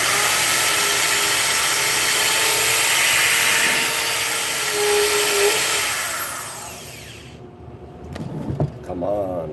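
Power drill running and boring through a small plastic model vehicle part, a loud sustained whine that fades out toward the end, followed by scattered clicks and handling noises.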